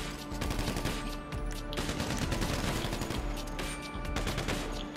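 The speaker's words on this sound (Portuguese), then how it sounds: "Tem um que tá me atirando ali da esquerda ali" Rapid automatic gunfire in GTA V during a shootout mission, dense overlapping bursts with loud sharp reports and brief gaps, sustained across the whole stretch without voices.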